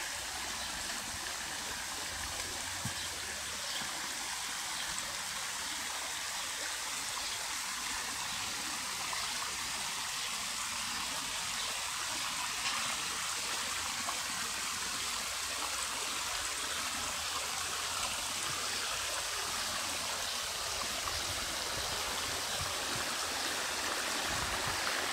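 Spring water flows and drips outdoors near a small planted forest in Mardin, a constant, even rushing with a fine trickling texture that goes on throughout, with no voices.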